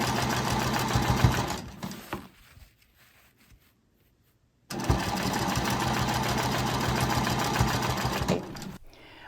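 A sewing machine stitching a quilt, running in a fast steady whir, slowing and stopping after about two seconds, then starting again after a short silence and continuing for several seconds, close and loud with no talk.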